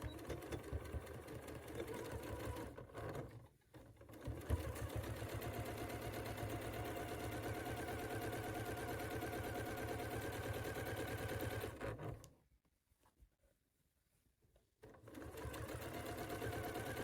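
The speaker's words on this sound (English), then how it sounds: "now I'm going to start sewing on this side and back stitch when you start." A sewing machine stitches quilt pieces in long steady runs of rapid needle chatter, with a brief dip early on and a clear pause of a couple of seconds before stitching resumes.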